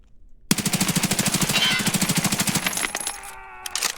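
Rapid automatic gunfire in the video game Escape from Tarkov, one long loud burst of evenly spaced shots lasting about two seconds, followed by a short tail of metallic clinks and ringing.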